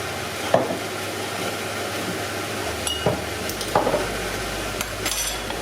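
Cabbage sabji cooks in oil in a pan with a soft steady sizzle, broken by a few scraping stirs and light clinks of a utensil against the pan, close and moderate, with no one talking.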